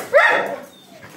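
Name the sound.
dog barking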